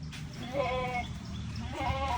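A goat bleats twice, close and clear, with a short pause between the wavering calls.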